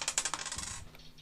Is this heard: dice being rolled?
yes